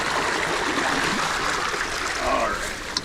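Swamp runoff water flows and gurgles steadily as it is collected for starting greenhouse seedlings, a close, continuous rushing stream with no pauses.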